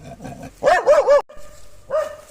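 A dog barks close by in a quick burst of several sharp barks, then lets out one more bark after a short pause.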